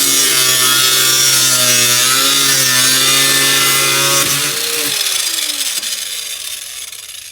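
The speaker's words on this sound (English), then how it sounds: "Okay, done with the angle grinder." Angle grinder cutting through wood for homemade chicken killing cones, a loud, steady whine with shifting pitch that slowly fades toward the end.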